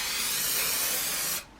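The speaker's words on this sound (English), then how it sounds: "So I would spray very lightly on the backing fabric" Aerosol glue sprayed lightly onto quilt backing fabric: a steady, close hiss lasting over a second, then cutting off abruptly.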